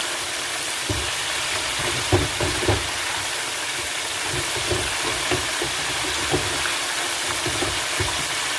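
Chicken wings and legs deep fry in a commercial deep fryer, giving a dense, steady bubbling sizzle close up over a constant low hum, with scattered soft knocks.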